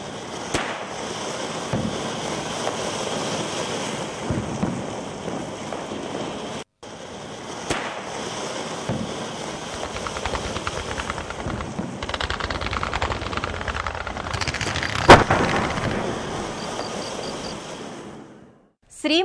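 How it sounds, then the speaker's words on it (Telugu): Firecrackers burst for a Diwali celebration in a dense, continuous rattling crackle of rapid pops, loud and sustained, with a few sharper bangs standing out and a brief cut partway through. "రకరకాల టపాసులు పేల్చి తమ ఆనందాన్ని వ్యక్తం చేస్తారు."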